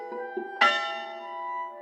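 A bell rings out clearly: a couple of soft tones sound first, then one strong strike whose bright metallic tone hangs and slowly fades, with no talking.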